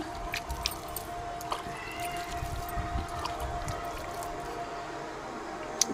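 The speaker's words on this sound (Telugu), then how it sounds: "ఇలా వాటర్ వేసుకోవాలండి మొత్తము" Water is poured onto soil in a tub in a terrace garden, a faint continuous trickle and soaking splash with a small clatter near the end.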